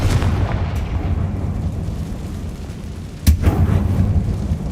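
In the Hogwarts Legacy video game, a Confringo blasting curse detonates inside an abandoned mine, giving a loud booming explosion with a sharp blast midway over a rumbling background.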